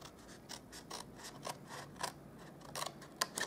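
Scissors cut cardstock along score lines for a box base, producing a quiet close series of crisp snips at an irregular rhythm, with no voices.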